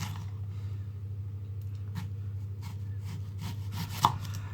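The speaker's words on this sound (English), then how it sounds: "So we have our peeled onion here. And now what you want to do is you want to cut that onion in slices." A knife cutting slices from a peeled onion on a board, a few muffled chopping taps over a steady low hum, with one sharper knock near the end; nobody speaks.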